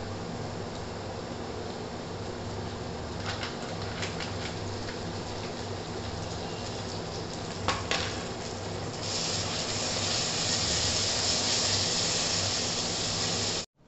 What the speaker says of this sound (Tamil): தேவையான அளவு இஞ்சி பூண்டு பேஸ்ட் வந்து சேர்த்து வாசனை போகிற அளவுக்கு வந்து நல்லா வதக்கிக்கலாம்.